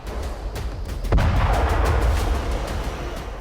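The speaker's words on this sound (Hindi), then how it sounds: "जहां आईडीएफ ने बारूद बरसाकर 8 से ज्यादा इमारतें जमींदोज कर दी" Israeli strikes on buildings in southern Lebanon produce a single heavy boom out of a constant low rumble, followed by a drawn-out roaring tail.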